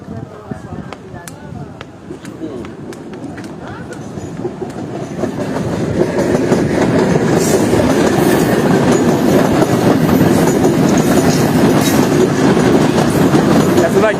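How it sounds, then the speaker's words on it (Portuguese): A train runs along a railway line in Brazil, its wheels clattering steadily and growing louder as it passes close by, with a continuous rumbling roar. "Essa daqui é a linha do trem, a rede ferroviária que segue em direção central do Brasil."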